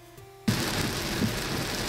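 Steady rain falls outdoors on the way to a retro video game convention, starting abruptly as a dense, continuous hiss of drops on surfaces with a few louder splashes, close and fairly loud, with no talking.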